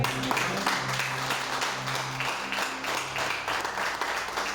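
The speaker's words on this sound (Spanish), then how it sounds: "Dale un aplauso al Señor" A church congregation applauds during an anniversary service, a steady wash of clapping with sustained musical tones, likely an organ or keyboard, droning underneath for the whole stretch.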